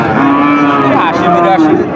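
A large cow, Friesian or cross breed, at a cattle market gives one long, loud, close moo that holds steady for the full two seconds with no other sound over it.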